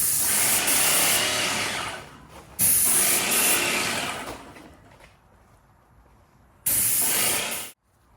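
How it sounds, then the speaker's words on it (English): A second coat of spray paint going onto a garage door during a garage makeover: three close, loud hissing bursts of several seconds each, separated by quiet pauses. "Now I'm going to go ahead and put my second coat of spray on."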